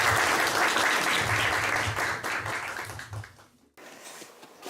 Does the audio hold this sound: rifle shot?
no